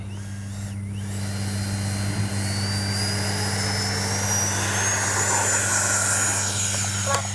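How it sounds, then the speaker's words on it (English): An FMS 70mm Yak-130 RC jet flies overhead, its ducted fan producing a continuous loud whine and rushing roar that holds steady with a slowly rising pitch, with no talking. "I just love flying this little plane."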